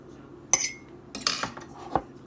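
Meatloaf ingredients, dry seasonings and breadcrumbs, are mixed in a bowl, giving a few scattered clinks and scrapes of a utensil against the dish, close and fairly quiet.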